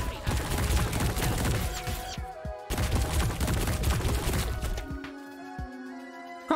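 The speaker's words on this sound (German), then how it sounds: "Es wird noch mehr auf mich geschossen" Gunfire aimed at the player in High on Life crackles in rapid, dense bursts against a loud game backdrop, with a brief break midway and quieter tones as the shooting fades near the end; someone speaks at times.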